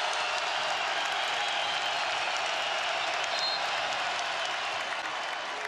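A packed college basketball arena roars during Iowa State versus Houston, a dense, continuous wall of crowd noise and applause holding loud and steady throughout.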